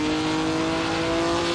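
A Maserati 250F V12 race car lapping the Nürburgring Nordschleife, its engine a close, loud, unbroken high-pitched drone held at steady revs, with no voices.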